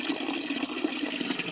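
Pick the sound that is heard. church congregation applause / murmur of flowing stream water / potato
murmur of flowing stream water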